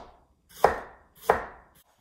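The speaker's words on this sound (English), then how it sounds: "let's continue dicing all the veggies" A knife dices vegetables on a cutting board, with two crisp, evenly spaced chops close up in otherwise quiet surroundings.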